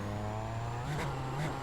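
A Super Formula Lights race car in the iRacing sim is pushed hard into a corner, its engine note droning steadily with a brief rise in pitch, heard loud and close with no voices.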